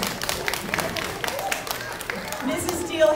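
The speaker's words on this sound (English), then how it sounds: "Can everyone give a round of applause for Mrs. Deal?" Scattered claps from an audience at a school Read Across America reading event, a modest patter of hand claps beneath background voices and room noise, fairly faint and uneven.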